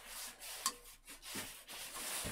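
A cloth rubs gloss finish into a textured wooden bowl in short, soft scuffing strokes, close and fairly quiet with a brief squeak partway through.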